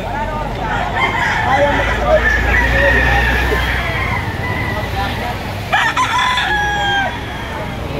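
A rooster crows loudly nearby, a drawn-out call over road noise and chatter, with a second shorter crow and some clucking near the end.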